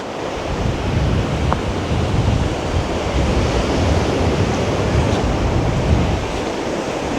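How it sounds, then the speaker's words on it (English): Heavy surf and strong wind roar without pause on the beach at Black River, Jamaica, after a Category 5 hurricane, a loud, dense wash of crashing waves and microphone buffeting with no voices. "I'm here on the beach, here in Black River."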